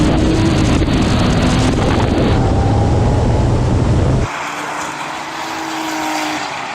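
A Porsche 911 Turbo of the 993 generation roars hard under acceleration in a drag race, a loud sustained engine note with rising pitch that drops off abruptly as the car pulls away, wind buffeting the microphone.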